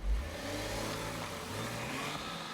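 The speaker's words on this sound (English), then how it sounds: "The sound that comes out from the engine is absolutely wonderful" A 1997 Porsche Boxster with a water-cooled 2.5-litre six-cylinder engine, its steady mid-pitched engine note holding close and fairly even after a brief low thump at the start, with no talking.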